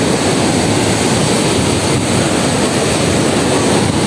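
Strong ocean waves pound a damaged shore in a steady, loud roaring wash of surf that fills the whole stretch without pause or voices.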